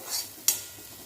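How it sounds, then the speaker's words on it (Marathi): Chopped onion and coconut roast in a pan for bitter gourd curry, with a faint hiss and one sharp close spoon scrape against the pan, brief and without talk. "आता एक कांदा आणि खोबरं भाजून घेऊया"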